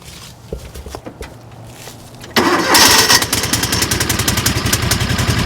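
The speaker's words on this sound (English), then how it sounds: "You can take your new relay, stick that right in there, and then just test the starter now." A John Deere 6x4 Gator utility vehicle, just fitted with a new starter relay, cranks briefly after a few faint clicks and catches, its engine then running loud and close with a steady chugging idle.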